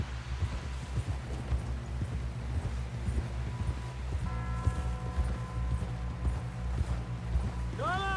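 Horse hooves clip-clop at a steady galloping rhythm through a Red Dead Redemption 2 scene, moderately loud and continuous, with a low engine-like hum and rising whistle tones near the end.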